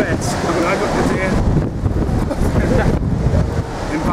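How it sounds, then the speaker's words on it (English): Strong gusts buffet the microphone outdoors in windy, wet weather, a loud continuous rumbling roar with surges throughout, nearby voices faintly mixed in. "So it's very windy and wet."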